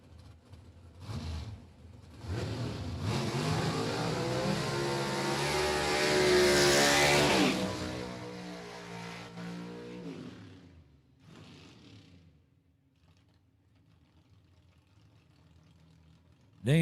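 A drag racing car launches and roars down the strip at a dragway, the engine rising from a burst into a loud, swelling run that peaks and fades into the distance, with brief bursts before and after.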